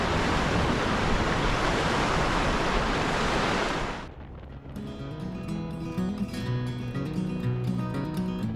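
Broadband ocean surf at Prevelly Beach in Western Australia, a steady loud roar of breaking waves that cuts off sharply about halfway, leaving quieter surroundings with faint scattered sounds.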